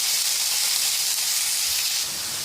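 Ground onion paste frying in a pan for mutton liver masala gives a steady, close, continuous sizzle and hiss that eases slightly near the end, with no voices.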